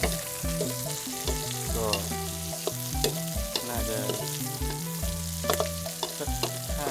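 A lemongrass dish being stir-roasted in oil in a pan, with a continuous sizzle broken by repeated scraping and clanking strokes of a utensil in an irregular rhythm.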